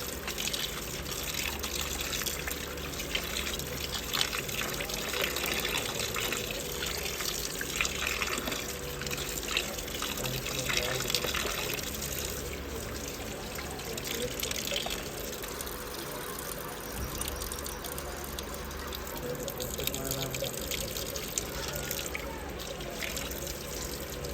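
Raw chicken pieces rinsed by hand under running tap water in a village kitchen, a steady close splashing stream with constant trickling and dribbling throughout.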